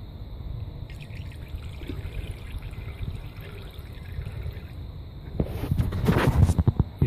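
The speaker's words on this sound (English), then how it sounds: "You start pouring it in." Liquid poured in a thin trickle into a sample during a free fatty acid titration test, a soft steady dribble that grows louder and splashier toward the end.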